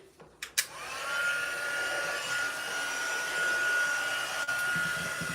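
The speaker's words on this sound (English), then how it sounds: "now we're going to do the heat gun" A heat gun blowing hot air during papercraft stamping, starting with a few clicks, then a steady, loud whooshing blower hum that holds for several seconds.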